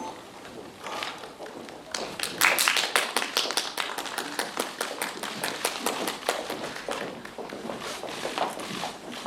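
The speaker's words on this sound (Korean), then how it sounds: "따뜻한 박수로 맞아주시기 바랍니다." Scattered, uneven hand clapping from a modest seated audience at a film premiere press event in Korea, greeting the director and cast of the film as they take their seats, steady and moderately close for several seconds.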